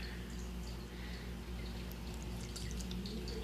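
Water is poured into a bowl of dry cornstarch oobleck mix, a soft, close, continuous splashing trickle at low volume with no voices.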